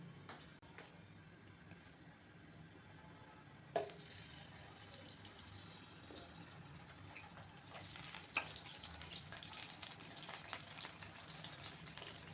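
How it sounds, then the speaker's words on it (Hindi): Marinated eggplant pieces fry in hot ghee in an open kadhai, giving a steady soft sizzle that grows louder and brighter partway through, with occasional stirring clinks. "अब हम इन्हें गरम घी में फ्राई करेंगे।"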